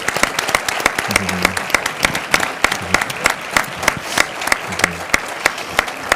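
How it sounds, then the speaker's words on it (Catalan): Steady applause from a cinema audience at a series presentation, dense clapping throughout with a few brief voices underneath. "I un aplaudiment per tots ells."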